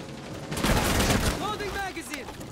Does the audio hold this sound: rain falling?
no